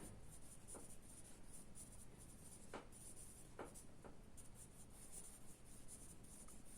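Handwriting on a surface while working through epidemiology growth-curve math, soft scratchy pen strokes in a steady run with a few sharper taps, quiet and close, no voices.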